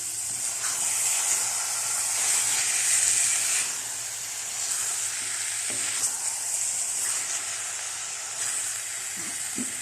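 Carrot halwa roasting in a pan over medium heat, a steady close sizzle and hiss with occasional scraping stirs, continuous throughout without voices.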